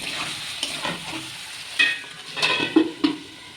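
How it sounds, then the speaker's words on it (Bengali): Chicken for a yogurt chicken curry sautéed in a covered pan over low heat, with soft sizzling and uneven scraping stirs that grow louder toward the end, close by with no talking. "এবার গ্যাসটাকে সিম করে ঢাকা মেরে মেরে ভালো করে কষতে হবে"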